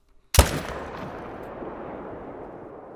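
A single loud, sharp rifle shot from the Arzina 300 Mag Tactical fired at a moose in theHunter Call of the Wild, followed by a long rolling echo that fades over a couple of seconds.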